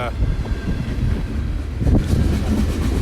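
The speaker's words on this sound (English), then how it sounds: "okay, so it's a manifest train." Manifest freight train rolling past on a railway during the first snowfall, a loud, steady rumble with rattling cars that intensifies in the second half, mixed with wind buffeting the microphone.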